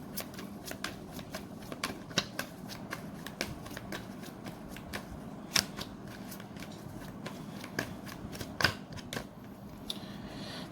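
Tarot cards being shuffled in a steady run of crisp riffling clicks and soft flutters, close and fairly quiet, with no voice over them.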